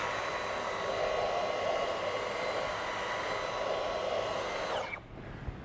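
A Dyson cordless vacuum cleaner sucks hair off a sofa, its steady high-pitched motor whine running loud and unbroken for about five seconds before cutting off abruptly.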